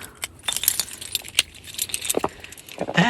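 Keys jangle and clink close by in a string of bright metallic rattles and taps, loud against a quiet background with no talking.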